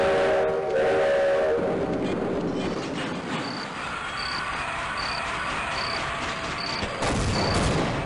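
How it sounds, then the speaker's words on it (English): Scripted train sequence in the horror mod They Hunger: a rumbling rail roar with repeated short high whistle-like tones, then a louder burst near the end. "Oh hey, a cool scripted train sequence."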